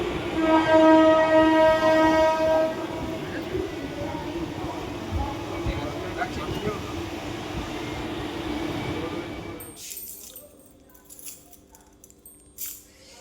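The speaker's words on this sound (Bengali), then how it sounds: "এই তো ট্রেনে আছি এখন আছি" Inside a running train, a steady rumbling clatter fills the carriage while a horn sounds clearly during the opening seconds. The noise drops and shifts near the end, with some voices present.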